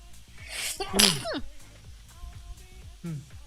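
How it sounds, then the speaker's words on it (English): A sudden, loud sneeze bursts out close by, followed by a quieter rustling background and a brief soft vocal sound near the end. "Did you sneeze?"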